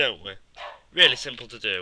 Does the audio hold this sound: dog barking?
yes